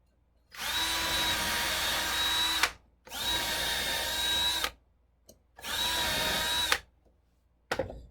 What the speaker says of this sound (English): And let's drill this last one.